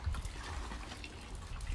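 Water running steadily through a well fire pump, drawn from underground, makes a continuous low rushing trickle with light dripping, close and unbroken throughout.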